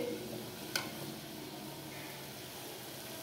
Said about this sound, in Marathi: पाणीला आपल्या हे चांगले उकळी आली, चांगले खळाखळा उकळी फुटले